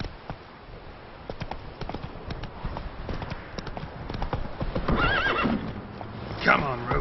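Roach, a horse in The Witcher 3, gives several whinnies over a steady clip-clop of hooves at a run, with a loud neigh near the end.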